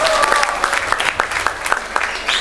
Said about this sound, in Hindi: ताली बच जाए तो अच्छा रहेगा।